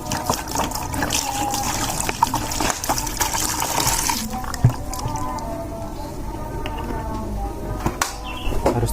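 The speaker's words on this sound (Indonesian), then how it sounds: "Sebentar, tak isi air dulu." Water pouring and trickling into a container while mixing fermented potting medium for aglaonema plants, a steady liquid rush with some squishing and dripping, close by, with a voice talking briefly over it.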